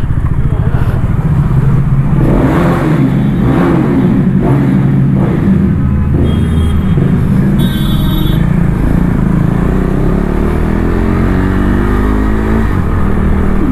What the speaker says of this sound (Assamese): বাইকৰ পৰা ডিবিগিলা কাটা আছে আৰু চাউণ্ডটো পূৰা লাউড হৈ আছে